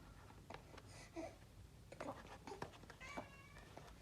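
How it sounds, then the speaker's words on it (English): A pet cat meows several times during an Apple Watch unboxing indoors. The meows are faint and come in short, scattered bursts over soft speech and a quiet room. "Yeah, that's my cat"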